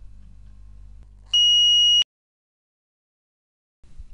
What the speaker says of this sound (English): the spring-operated float again activates the visual and audible alarm at the remote panel